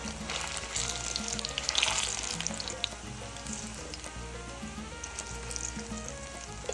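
Plantain slices frying in about half a cup of hot vegetable oil, a steady loud sizzle and crackle filling the whole stretch with occasional spatter pops and pan handling, no talk.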